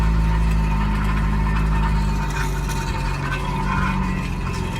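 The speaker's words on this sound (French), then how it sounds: "tant pis avec le pot d'échappement qui traînait" A car engine runs loud and close with a loose exhaust pipe dragging beneath it, producing a continuous heavy rumble and a noisy, rough grinding wash that eases slightly partway through.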